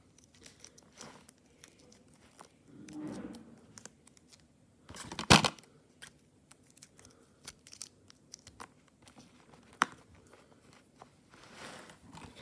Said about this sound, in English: I'm going to take these stickers off so I can seal them anyway